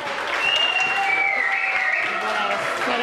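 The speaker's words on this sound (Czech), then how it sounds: "potlesk pro Pepička" Club audience applauding during a travesti show in Chomutov, a steady close wash of clapping that runs the whole time while a voice sings or speaks over it.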